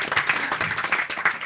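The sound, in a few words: audience applause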